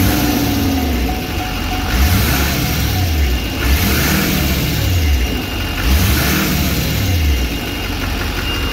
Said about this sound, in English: Rev and give it some revs.